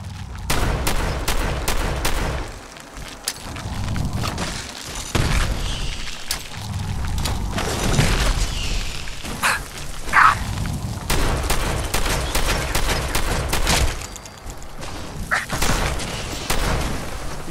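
A combat shotgun in Fallout 4 booms again and again in heavy, punchy blasts at irregular intervals, mixed with other gunfire and impacts throughout a long, loud fight.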